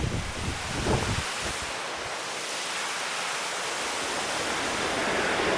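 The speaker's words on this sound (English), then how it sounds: "you can probably make out this fantastic waterfall which we've just come across on the way down" A waterfall on a hillside hike in Glen Lee roars as a constant broad rush of water, mixed with some wind buffeting on the microphone, with no voices.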